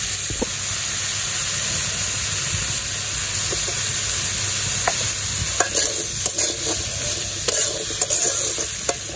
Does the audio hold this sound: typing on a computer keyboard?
no